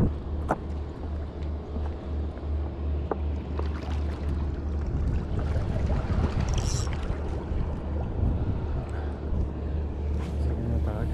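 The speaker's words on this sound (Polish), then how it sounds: "łódka płynie, może mi go spłoszyć teraz" A motorboat engine hums steadily in the distance over rushing water and wind noise in a harbour in the Netherlands, with a low rumble throughout and faint background voices.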